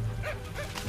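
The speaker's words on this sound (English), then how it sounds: "Another warning bark" A capybara gives a short, harsh warning bark in the Brazilian Pantanal rainforest, a single brief call heard close over a busy, noisy natural background.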